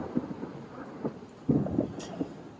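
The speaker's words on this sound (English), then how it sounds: "It's thundering." Distant thunder rolls low and faint outdoors, a few soft rumbling swells rising and fading over a couple of seconds with no talking.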